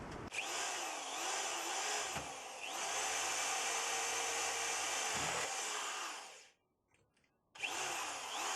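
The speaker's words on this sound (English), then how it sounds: "drill out the holes for the securing nuts and bolts" A power drill bores holes for securing nuts and bolts, its loud close whine running steadily for several seconds before a short pause and a restart.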